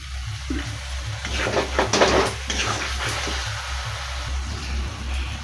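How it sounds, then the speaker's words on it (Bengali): Water pours into a spice paste of Kashmiri chilli in a pan for an egg curry, giving a loud, continuous sizzling hiss that rises in the middle and settles, without talk. "একটু জল দিয়ে দিচ্ছি।"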